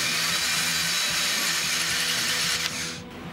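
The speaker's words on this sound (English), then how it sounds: "I'm going to drill a hole in the side so we can feed this tube inside" Power drill boring a hole in the side of a container for a tube, a loud steady motor whine with a rhythmic low chatter, easing off in the last half second.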